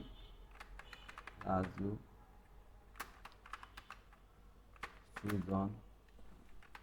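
Keys clatter in short bursts as names are typed into a Word document on a computer keyboard, with a voice speaking over and between the bursts of typing.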